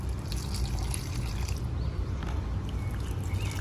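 Water is poured into a reused KFC bucket serving as a plant pot, a quiet, steady trickling splash heard close up with no talking.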